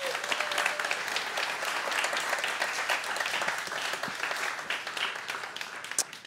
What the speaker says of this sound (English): Let's have a big round of applause for Rose.